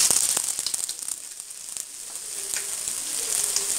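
Chicken 65 pieces deep-frying in hot oil, giving a loud, dense sizzle with crackling pops throughout and no voices.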